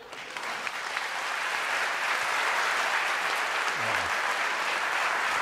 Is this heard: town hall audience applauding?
yes